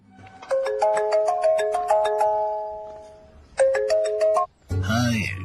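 A melodic mobile phone ringtone announces an incoming call, its bright electronic chime phrase playing over and over, pausing briefly, then starting again, before a voice breaks in at the very end.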